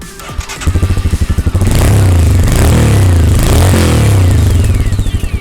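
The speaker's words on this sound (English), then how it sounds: "you get a side hung single barrel exhaust, which is kind of bassier. I like the roar between 4000 to 5000 RPM." A Royal Enfield Himalayan BS6 motorcycle with a side-hung single-barrel exhaust idles with a lumpy thump, then revs hard into a deep, loud, bassy roar that rises and falls in repeated surges, close up.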